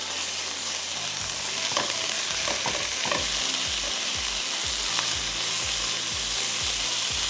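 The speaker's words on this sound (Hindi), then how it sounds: "मैं इसमें डाल दूँगी द कीमा, सो दैट कीमा को भी हमें पकाना है।" Minced meat (keema) with ginger and garlic fries in a hot pan, a loud, steady sizzle. A spoon scrapes and stirs the mince with repeated knocks, and nobody speaks.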